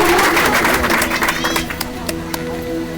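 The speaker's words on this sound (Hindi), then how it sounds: "उनके लिए भी जोरदार तालियां बजाकर उनका अभिनंदन करें" An audience at a Shiv Mahapuran katha bursts into applause, loud clapping that fades over a few seconds while a voice and background chatter carry on.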